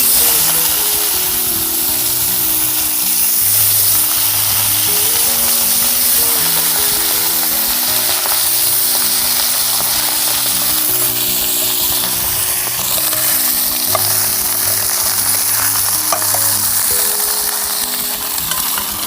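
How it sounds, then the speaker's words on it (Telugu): Eggplant pieces fry in hot oil for a Telugu onion-stuffed eggplant curry. A constant, bright sizzle carries through the whole stretch, and soft stirring and scraping sounds sit underneath it. "వంకాయ ఫ్రై చేయడానికి ఆయిల్ వేసుకుందాం."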